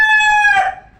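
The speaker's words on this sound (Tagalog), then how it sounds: "Ito nga pala si Batik, ang alaga kong ibon." A pet rooster crows nearby, one loud, clear, drawn-out cock-a-doodle-doo that rises and then trails off into quiet, heard alone with no talking.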